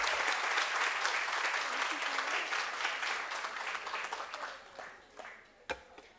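Warm audience applause following a speech at a Women's Month event, full and even at first, then thinning into scattered individual claps that trail off to near silence.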